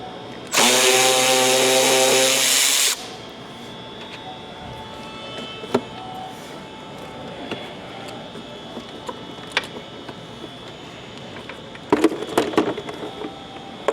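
A power tool zips out the 10mm bolts holding the intake scoop on a 2019-2024 Dodge Ram Cummins, one loud burst of about two seconds, then faint clicks and handling noises follow.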